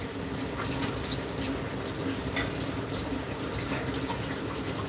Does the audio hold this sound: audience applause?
no